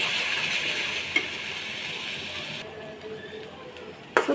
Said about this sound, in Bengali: ভালো করে এগুলো মিশিয়ে আমি নেড়ে চেড়ে ভেজে নেব।